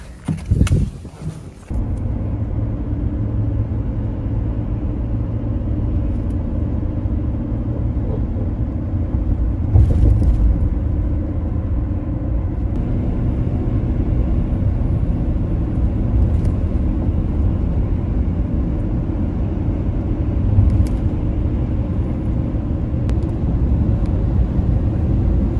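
Non-CDL truck pulling out and cruising on the highway, with a loud, steady engine and road rumble that continues without a break after a few brief knocks at the start.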